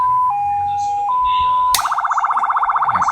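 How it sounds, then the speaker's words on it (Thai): A 200-watt electronic siren sound box steps through tones, a steady held wail shifting pitch before switching abruptly to a loud, rapid warbling yelp that pulses evenly to the end, close and alone. "กล่องเสียงไซเรน200 วัตต์นะครับผม"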